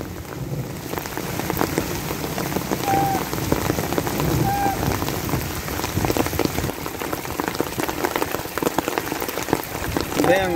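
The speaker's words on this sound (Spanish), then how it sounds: "Que les agarra el agua a los muchachos." Heavy rain pours steadily onto surfaces outdoors in rural Acatlán de Osorio, Puebla, Mexico, a dense continuous patter with scattered drops, a few faint bird chirps and occasional distant voices.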